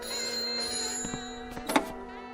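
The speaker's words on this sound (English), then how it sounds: "Or the telephone ringing." A telephone rings with a steady bright electronic tone, with a few soft knocks and clatters near the end.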